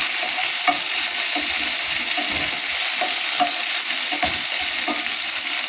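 Chopped green chillies sautéing in oil over a low flame, a loud, dense, unbroken sizzle close up with regular stirring taps and scrapes throughout, no voices.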